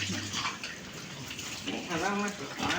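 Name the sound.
pig being bathed with cold water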